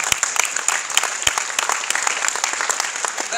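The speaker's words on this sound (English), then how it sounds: "Give them another applause." Sustained audience applause for trustees at a gathering, dense steady clapping from a crowd filling the room with no voices over it.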